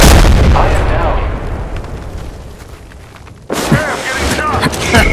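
Gunfire and explosive blasts in the video game Apex Legends: a heavy boom at the start decays away, then a sharp burst of shots cuts back in, loud and close.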